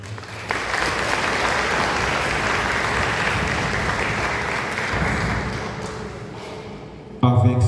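A church congregation applauds during Mass, a steady, full wash of clapping lasting several seconds, then fading before a voice returns.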